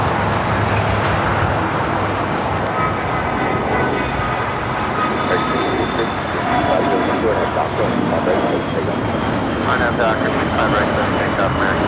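A Delta airliner takes off at Los Angeles International Airport (LAX), giving a loud, sustained jet roar mixed with broadband engine noise that stays strong throughout, while a voice talks over it.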